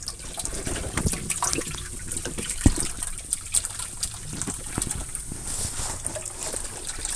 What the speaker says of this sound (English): Getting just the rest of the air out of the lines.